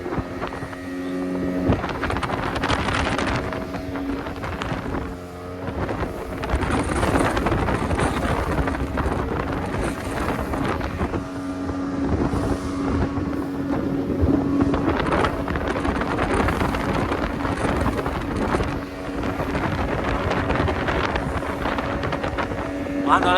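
A speedboat runs from Shivrajpur beach toward an island, its motor droning steadily amid buffeting wind noise and water splash, while people talk over the ride.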